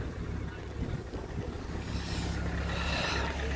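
A vehicle engine idles steadily after a cold start in the Spiti Valley of Himachal, left running to warm up. A low, even rumble continues throughout, with wind buffeting the microphone.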